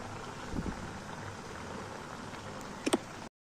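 Rice murukku deep-frying in oil that fills a kadai: a continuous soft bubbling and crackling hiss, close and steady, with a couple of sharp clinks near the end before it cuts off.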